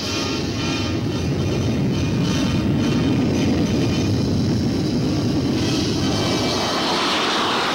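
A U-2 reconnaissance plane on its takeoff roll, a loud, sustained engine roar that holds steady and swells slightly, with no voices.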